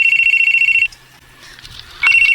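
A cellphone rings loudly with a steady electronic tone, stops for about a second, then starts ringing again, close by and alone.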